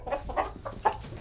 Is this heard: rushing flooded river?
no